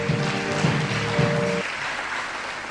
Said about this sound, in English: I invite you to applaud the members for their creative genius.